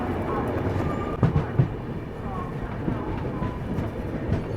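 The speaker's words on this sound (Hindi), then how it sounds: "बाकी रात के 2:45 में गाड़ी पहुंची है बरेली जंक्शन" The Shramjeevi Express stands or rolls through Bareilly Junction on a foggy winter night, giving a continuous low rumble with occasional sharp clanks and knocks, while voices murmur in the background.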